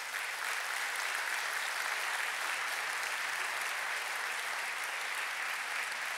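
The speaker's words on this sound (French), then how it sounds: "et vous pouvez les applaudir." A crowd applauds during a 2020 New Year's greetings ceremony speech, with a steady, even wash of many hands clapping at moderate distance and no break throughout.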